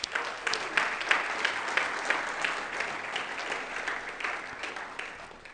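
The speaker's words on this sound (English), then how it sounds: "A big applause for Greg" An audience at a tech conference session on Apple device management applauds, a steady wash of many hands clapping at moderate distance, sustained throughout with no talk over it.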